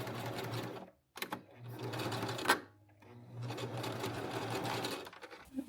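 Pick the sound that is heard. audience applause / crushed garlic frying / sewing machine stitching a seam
sewing machine stitching a seam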